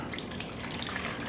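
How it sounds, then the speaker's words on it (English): Staghorn sumac liquid pours and trickles steadily through cheesecloth into a pitcher, a continuous close, soft splashing with no voices. "start straining this out into this pitcher"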